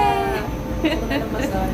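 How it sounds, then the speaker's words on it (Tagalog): Interior rumble of a Kaohsiung MRT train running late at night between Hamasen and Formosa Boulevard, a steady low drone with faint squeals, heard under quiet talk. "Nakasakay na kami ng MRT."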